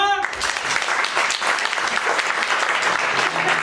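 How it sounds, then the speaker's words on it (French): A live audience at an interview show breaks into steady, dense clapping that fills the room at full strength and holds evenly throughout. "Par applaudissement!"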